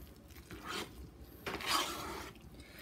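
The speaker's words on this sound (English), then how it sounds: "I'm going to give that a quick stir until it's well incorporated and the cheese melts." A spoon stirring cheesy mashed potatoes in a pot as the cheese melts in, giving soft scraping strokes with a few light metallic scrapes, quiet and close with no talk.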